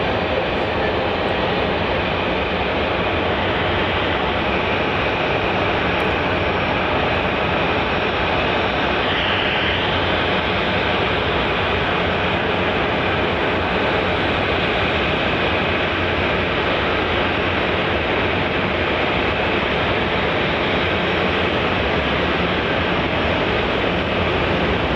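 A Qantas Link Boeing 717-200 lands on runway 16 at Melbourne Airport, arriving from Hobart, with a steady, broad jet roar that holds loud and unbroken throughout.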